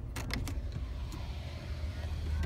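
The power rear window of a 2014 RAM 1500 SLT crew cab runs its motor with a steady whir, heard close up inside the cab. A few faint clicks come at the start.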